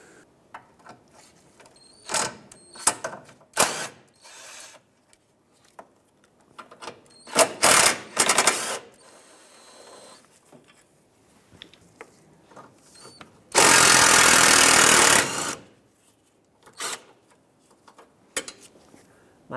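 Socket tool unbolting radiator support bolts on a 2012-2020 Ford Focus, with scattered ratcheting and rattling bursts and one loud, steady mechanical whir lasting about two seconds near the middle.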